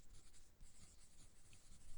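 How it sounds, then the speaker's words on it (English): Pen writing on a piece of paper at a table, close and quiet, with continuous scratchy strokes and small pauses over two seconds, no voices. "She writes something down on paper."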